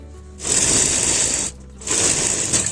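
A sewing machine stitches a seam on a ladies' shirt in two close, steady whirring bursts separated by a short pause.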